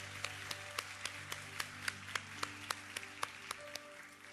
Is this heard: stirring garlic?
no